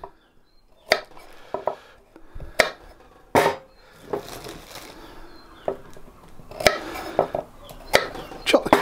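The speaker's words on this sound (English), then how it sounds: "Chop the carrots, hoi them in." Carrots chopped on a board and thrown into a Dutch oven for braised ox cheek, giving sharp irregular knife knocks and clunks with a few softer thuds, close and fairly loud.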